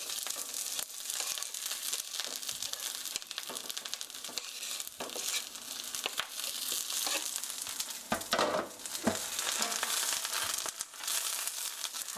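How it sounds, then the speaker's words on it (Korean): Sliced eggplant stir-frying in a hot oiled pan, a steady bright sizzle with crackling and occasional stirring scrapes, close and continuous, no voices. "썰어 놓은 에그플랜트 가지 넣어 주시고요."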